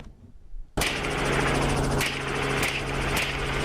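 A helicopter used as an aerial shooting platform starts up abruptly after a quiet moment, then holds a loud, close, steady engine drone with a rhythmic rotor beat.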